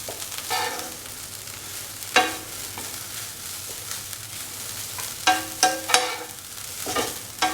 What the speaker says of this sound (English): salt all the ingredients and mix together.